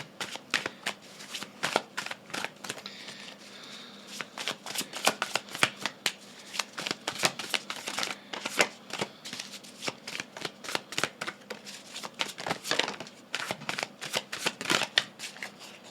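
Tarot cards being shuffled by hand in a quiet room, a long run of crisp riffling bursts and soft card slaps in an uneven rhythm, close and moderately loud, with no talking.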